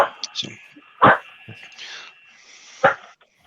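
A dog barks a few times indoors in short, sharp, loud bursts with a softer yip in between, while people chat nearby.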